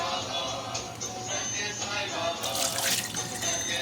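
Water splashes and runs down as utensils are rinsed and washed in a kitchen, a continuous close trickle with a louder gush of pouring toward the end.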